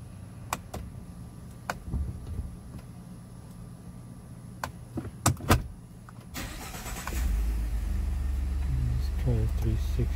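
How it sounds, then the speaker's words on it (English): A Ford F-150 pickup's engine cranks and catches about six seconds in, settling into a steady low idle; some clicks and faint talk come before it. "Let's see if I can turn the truck on."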